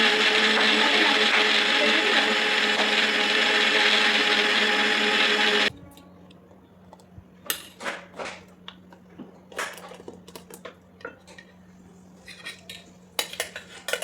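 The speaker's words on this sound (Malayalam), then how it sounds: "നമുക്ക് നന്നായിട്ടൊന്ന് അടിച്ചിട്ട് വരാവേ." A kitchen blender whirs loudly and steadily, blending strawberries, banana and milk, then cuts off abruptly; light clinks of cutlery and dishes follow.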